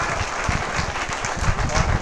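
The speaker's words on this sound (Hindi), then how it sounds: "तो इनके लिए बहुत जोरदार तालियां हैं पूरी टीम के लिए" Dense applause from an audience for a team at a university felicitation event, steady crowd clapping throughout, close and fairly loud, without distinct voices.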